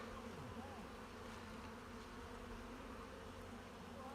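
A steady, dense buzz of many honeybees crowded in a village hive during hive inspection, continuous and low-pitched with no talking.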